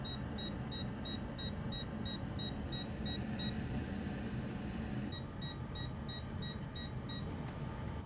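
Repeated short electronic beeps from a short-detection tool as voltage is injected into a shorted pin on a Nintendo Switch board, in even rapid bursts, pausing briefly mid-clip then resuming, over a steady low background hum.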